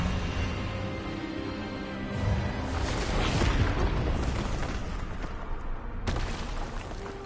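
An Expelliarmus spell blast in Hogwarts Legacy swells into a loud, rumbling boom that peaks midway, then fades into a lingering noisy tail with a sharp hit near the end.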